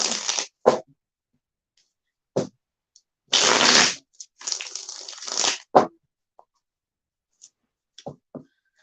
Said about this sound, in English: Let me get this shuffled up for you.